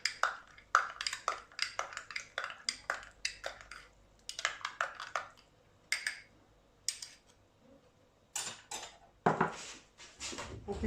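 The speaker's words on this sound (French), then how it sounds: "donc je vais mélanger avec ma cuillère" A spoon stirs sfenj doughnut dough with lukewarm water in a bowl, making a fast run of close, bright clinks and scrapes against the sides, then a pause and a few more sharp knocks, with no talking.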